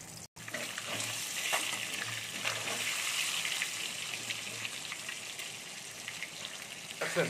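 Eggs frying in oil in a kadai, seasoned with a little salt and basted with hot oil, give a steady, dense crackling sizzle that runs throughout at moderate loudness with no talk.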